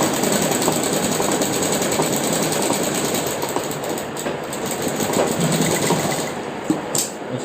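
Sewing machine stitching a bias strip on the back pocket of a pair of pants, a steady close rapid clatter running almost unbroken throughout, with no talking.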